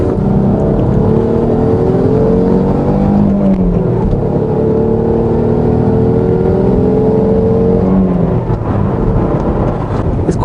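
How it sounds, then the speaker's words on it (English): Constant loud interior drone from a 20-year-old Alfa Romeo 156 2.5 V6 while driving, its engine note rising and falling through gear changes, with no talking. "Quite a noisy car in here."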